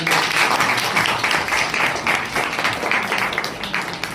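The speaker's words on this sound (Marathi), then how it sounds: "सरांचं जोरदार टाळ्या" A room full of people applauding, dense steady clapping that carries on throughout and tapers slightly near the end.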